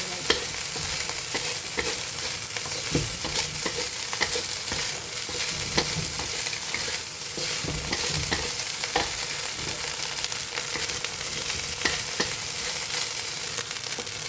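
Shrimp sizzle loudly in a pan under constant stirring, with a long run of scraping and clattering against the metal close by, and no voices.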